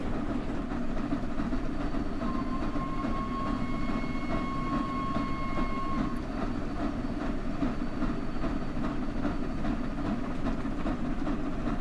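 A train in a rail simulation game runs along the Mittenwaldbahn with a steady rumbling roll and rhythmic wheel clatter, a thin whistle-like tone rising briefly in the middle, continuous throughout.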